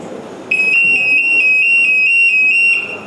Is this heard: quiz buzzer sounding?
yes